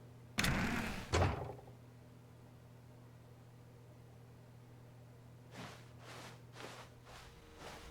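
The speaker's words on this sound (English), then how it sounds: "When Stanley came to a set of 2 open doors, he entered the door on his left." Two quick, loud door clunks and rustles open The Stanley Parable scene, followed by quiet hum and a few softer footstep-like taps as the door is entered.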